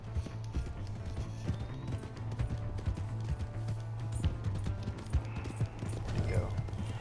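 Horse hooves clip-clop in Red Dead Redemption 2 as a rider keeps a fast, steady rhythm of sharp strikes over a constant low drone, with game voices and sounds mixed in.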